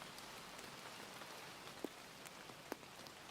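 Light, quiet rainfall with a soft steady patter and a few distinct drops tapping louder now and then.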